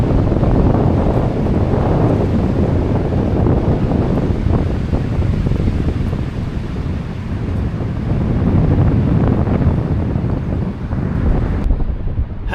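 Strong wind roars across a hiking trail on the Standing Stone Trail, a loud, continuous rumbling buffet against the microphone that swells and eases for the whole stretch without any voices.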